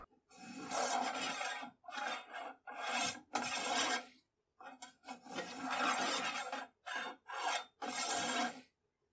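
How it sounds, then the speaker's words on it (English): Cleaning patches are pushed through the bore of a Mannlicher 1888/90 rifle, giving long, raspy rubbing strokes in a steady rhythm with short pauses between passes, loud and close. "Usually when cleaning a rifle, you run patches through until they come out clean."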